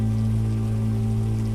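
Rain falling in a continuous even patter, loud and close, with a steady low hum beneath and no voices.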